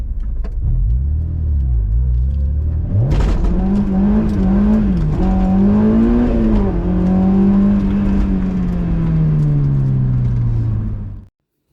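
A Honda S2000 sports car engine starts abruptly and revs loudly, the pitch rising and falling as it drives, then cuts off at the end.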